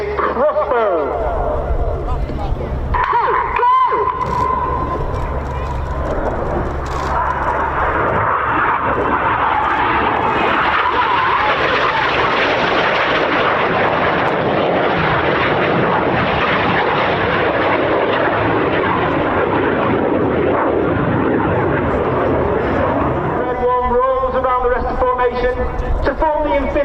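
Red Arrows RAF aerobatic jets flying the Crossbow manoeuvre at the Cosford Air Show, a loud, sustained jet roar that swells and sweeps past, with crowd noise and commentary voices at the beginning and end.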